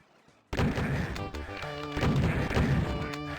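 Gunfire in the video game Doom during a competitive match, a sudden loud burst of weapon shots that starts abruptly and continues densely with punchy thuds and blasts in close succession.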